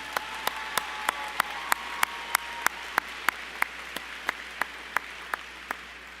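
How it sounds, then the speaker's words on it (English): At a secondary school graduation ceremony, a steady round of applause for the teenagers is punctuated by one sharp, regular clap near the microphone, roughly three per second, over softer crowd clapping. "How about a round of applause for our teenagers right here?"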